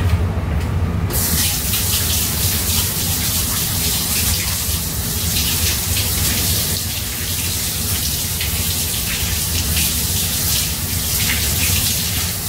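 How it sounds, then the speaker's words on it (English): Tap water runs steadily into a sink while hands are washed under it, a loud, close, continuous gush with faint splashing and no speech. "Just going to wash my hands."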